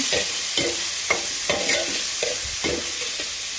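Spice paste and freshly washed greens fry in a hot pan, giving a steady sizzle with repeated scraping and stirring strokes about every half second, close and clear with no talk.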